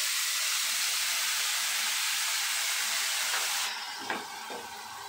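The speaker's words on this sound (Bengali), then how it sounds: "যে তেলে আমরা আলুটা ভেজেছিলাম আর কোনো তেল অ্যাড করছি না, ওই তেলের মধ্যেই আমরা এই পেস্টটা দিয়ে দিচ্ছি" Spice paste of ground melon seeds, cashews and ginger hits hot oil left from frying potatoes, giving a loud steady steam-like hiss that drops to a softer sizzle, with a few faint clinks near the end.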